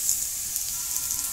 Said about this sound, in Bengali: আমি এখন অল্প একটু কুমড়ো ছিল তাই ভাজছি।